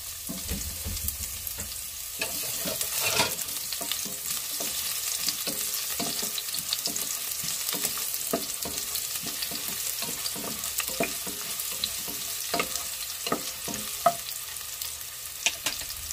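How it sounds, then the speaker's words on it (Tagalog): Garlic and onion sauté in hot oil with a steady, close sizzle, broken by frequent clinks and scrapes of stirring throughout. "Igisa na natin yung ating bawang at sibuyas."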